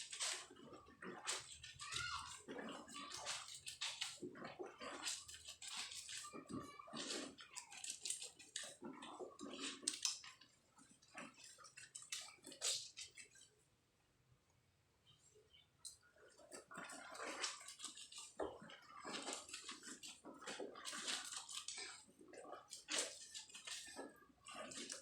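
Clothes being scrubbed and rubbed by hand in a basin of water, with steady sloshing, wet swishing and squelching strokes in repeated bursts, a short quieter pause midway, then scrubbing resumes.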